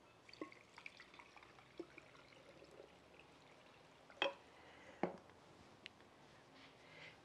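Water is poured into a blender jar holding chipotle chile, garlic clove, black pepper and salt, giving a quiet trickle with a few soft splashes and two sharper spills near the end, with no talk.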